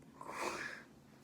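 A single sneeze from a person mildly allergic to cats, a short close burst of breathy noise lasting under a second in a quiet room.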